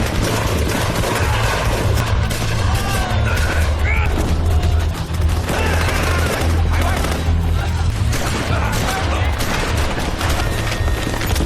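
Dense bursts of gunfire fill a movie shootout, loud and continuous with rapid overlapping shots and booms throughout.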